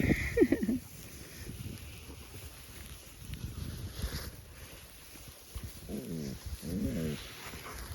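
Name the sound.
husky dogs in a pack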